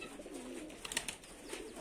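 Pigeons make soft, low cooing at close range, a steady murmur running through the whole short stretch with faint higher chirps over it.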